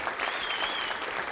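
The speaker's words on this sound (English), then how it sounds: "Give a round of applause to our sponsors" Applause from a tech keynote audience at swampUP 2018, a steady dense patter of many hands that carries evenly through the short stretch without a break, with no speech heard over it.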